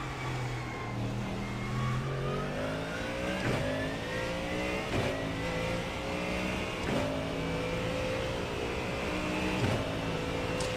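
Mustang GT3 race car engine in a racing video game, revving steadily with rising and falling pitch through gear changes, sharp shift breaks every second or so, loud and continuous with no talk.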